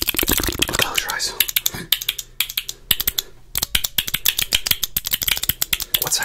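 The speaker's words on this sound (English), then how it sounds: "What side do you hear the clicking, on?" Close-miked ASMR clicking made with fingers or small objects, a rapid irregular stream of sharp crisp clicks over about six seconds with a brief pause midway, set against a soft hushed background.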